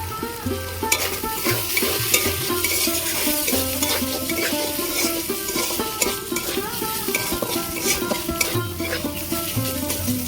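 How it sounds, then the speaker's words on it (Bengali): Chicken pieces fry steadily in a pan with a loud, constant sizzle, while a utensil stirs and scrapes against the metal in quick repeated strokes. "ভালো করে আমি চিকেনটা ভাজা ভাজা করে নিয়েছি"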